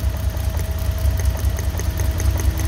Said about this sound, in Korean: 요 점화 코일에서 불꽃 튀는 소리 들리시죠?